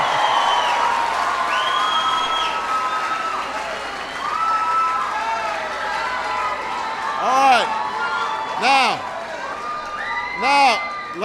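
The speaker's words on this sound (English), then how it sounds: "Give yourselves a big round of applause." A big town hall crowd in Costa Mesa, California claps and cheers loudly with whoops and shouts. A voice speaks briefly near the end while the noisy ovation carries on.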